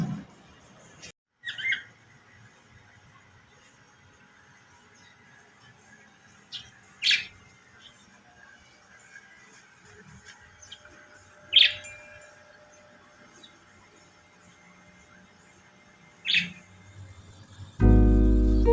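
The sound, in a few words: lovebirds chirping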